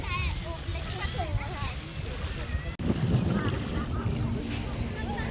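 Strong wind roars into the microphone with surf rushing nearby at Hudayriyat Beach in Abu Dhabi, while people talk over it throughout.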